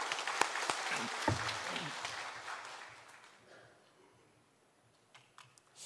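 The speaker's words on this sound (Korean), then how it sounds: "우리 주님께 영광의 박수 올려드리겠습니다." A church congregation applauds during a Korean Sunday worship service, a dense burst of clapping that starts strong and gradually thins and fades over several seconds, leaving only a few scattered claps.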